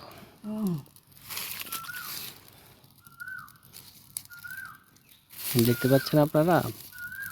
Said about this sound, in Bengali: চারপাশে পাখি কিচিরমিচির করে রাখতেছে।